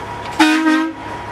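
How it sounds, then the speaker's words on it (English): A single short blast from a truck's air horn during a Class 3 pre-trip inspection, loud and close, lasting about half a second over a low idle. "My air horn works."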